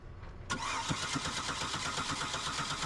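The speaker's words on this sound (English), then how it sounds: "All right, so I'm just gonna test one more, just in case this coil's bad." A Buick LeSabre engine cranks but does not start during a crank-no-start diagnosis, with a sudden onset of the starter followed by steady, rhythmic cranking pulses under a loud whirring drone for over two seconds.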